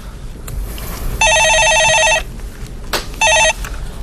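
Telephone bell ringing at a radio stock-market call-in show: two electronic trills, one longer and one short, stand out loud over a low studio background.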